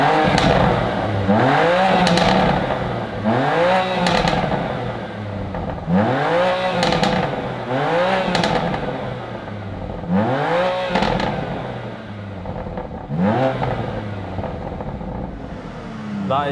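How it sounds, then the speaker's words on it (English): A BMW M2 Competition with the M3/M4 engine, set to Sport Plus, revs hard in repeated blips that rise and fall roughly every two seconds, loud and close, with crackles between pulls. "now if we shove the car into Sport Plus and see what that sounds like on revs."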